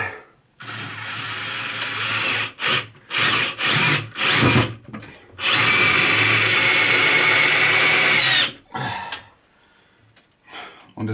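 Power drill driving long screws, probably into wood, in repeated bursts: several short whirring runs, then one long sustained drive lasting a few seconds, loud and close, with brief pauses between.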